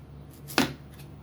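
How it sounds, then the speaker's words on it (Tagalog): A knife chops carrots, giving a single crisp, close chop against a cutting board, with a softer tap before it and another after it, against a quiet background. "hiwain na natin itong ating carrots"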